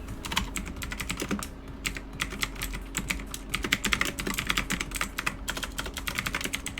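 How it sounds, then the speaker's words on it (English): Steady typing on a computer keyboard set a little lower than usual, a dense run of quick close clicks and key taps continuing throughout with no talking. "the keyboard is a little lower than normal for me because of how I have to do it for the stream"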